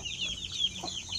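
Two-week-old Sampen chicks peeping, a continuous chorus of high, thin chirps, close and steady over a brief moment.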